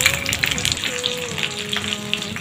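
Chicken barbecue pieces frying in hot oil in a pan, a steady bright sizzle with popping crackles throughout, close up, with a faint tonal hum underneath.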